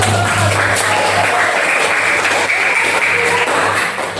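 A classroom or workshop group applauds loudly and continuously for several seconds, a dense steady wash of clapping with a low hum underneath and no clear speech.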